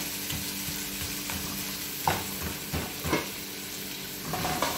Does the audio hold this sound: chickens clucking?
no